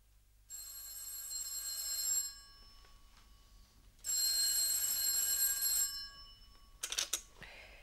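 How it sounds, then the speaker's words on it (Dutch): An old-fashioned telephone bell rings in two long, loud bursts with a short pause between them, heard in a Dutch radio drama, followed by a brief clatter as the receiver is picked up. "Ik doezelde net zo'n beetje weg toen de telefoon ging."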